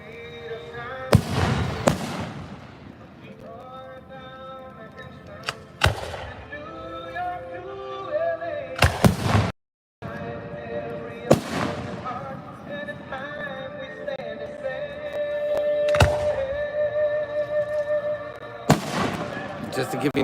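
Backyard 3rd of July fireworks go off nearby in sharp loud bangs and crackling bursts, repeated over about twenty seconds, with a short dropout midway.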